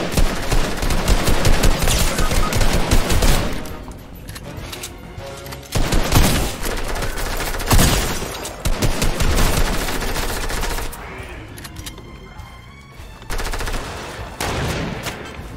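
Loud, close gunfire rattles in rapid automatic bursts, with dense volleys separated by brief lulls and scattered single shots.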